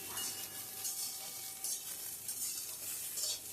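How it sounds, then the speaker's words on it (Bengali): Ridge gourd with salt and turmeric being stirred in hot mustard oil in a pan, making a continuous sizzle with swelling bursts of scraping and stirring throughout. "নুন হলুদ দিয়ে ঝিঙাটাকে ভালো করে নাড়াচাড়া দেবো"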